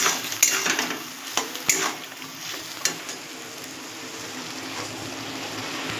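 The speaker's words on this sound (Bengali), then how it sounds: "আর একটু নুন, একটু হলুদ দিয়ে আমি এটা ভালো করে নাড়াচাড়া দিয়ে" Goat curry being stirred in a pan after salt and turmeric go in, with several sharp clinks of a spoon against the metal early on over a soft, steady simmering sizzle.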